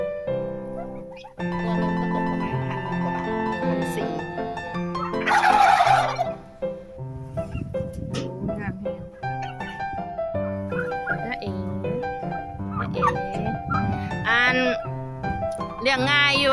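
Turkeys gobble repeatedly in loud, rippling bursts, several birds calling over one another with people talking in the background.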